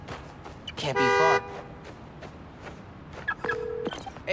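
Car horn honking in the video game Spider-Man Miles Morales, two separate blasts: a longer loud toot early on and a second shorter steady toot later, over city street ambience with a voice speaking in the background.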